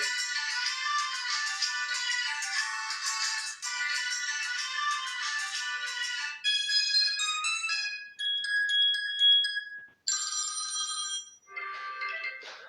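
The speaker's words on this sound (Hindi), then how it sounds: "यहाँ से कुछ रिंगटोन्स को चलाकर देख लेते हैं" Several different phone ringtones play one after another through the small speaker of a Telenor Infinity E5 Pro phone, bright electronic chimes and melodies, each switching abruptly to the next.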